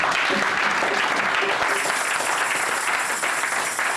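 A church congregation bursts into sustained, dense applause praising the Lord, loud steady clapping from a large crowd filling the whole stretch with faint voices mixed in.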